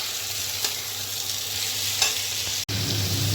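Curry being stir-fried and browned with spices in a pan, a steady close sizzle with a few scrape accents and a brief dropout near the end.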